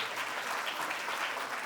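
Parents applauding at a school annual day, a steady dense wash of many hands clapping at moderate loudness throughout, with no voices over it.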